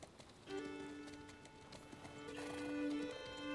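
Rhythmic hoofbeats of a galloping horse with a whinny in the video game Legends of the Round Table, set against sustained musical tones, like a game soundtrack.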